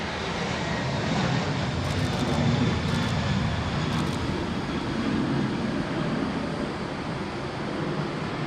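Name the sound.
Qantas airliner landing at Sydney Airport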